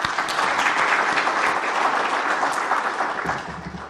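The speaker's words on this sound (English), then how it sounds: "Why don't we clap for all these guys" Conference audience in a hotel venue breaks into steady, dense applause at a pharmaceutical regulatory conference, close and full before thinning out toward the end.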